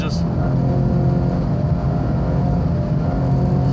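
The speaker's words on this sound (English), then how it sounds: "That's just that damn turbo doing all of that, man. Once it starts spooling up and creating whatever amount of boost it is" A 2015 Ford Mustang EcoBoost under hard acceleration, a loud continuous engine drone with turbo boost building, heard from inside the car.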